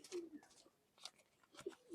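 A pair of pure Tula pigeons of the famous Khulna old bloodline coo softly in short, repeated low calls, faint and close with brief pauses between phrases.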